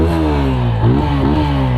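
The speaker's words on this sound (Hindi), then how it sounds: "बट भाई ये जो इंजन थंब निकाल के देता है ना, मैं आपको देखो चेकआउट कराता हूँ।" A TVS Apache 160 4V motorcycle's exhaust thumps loudly up close as the engine is revved in quick blips, pitch rising and dropping a few times.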